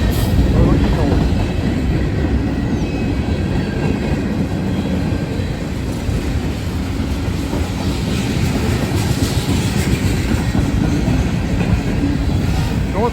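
Freight train rolling steadily past at close range, a Burlington Northern boxcar among the cars, with continuous rumble and clickety-clack of wheels on rail joints throughout.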